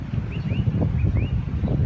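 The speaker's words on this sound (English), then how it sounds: "It's extremely windy, hence you'll get some wind." Heavy wind buffets the microphone in a constant low rumble in a small town in South Australia, with a few faint bird chirps high above it.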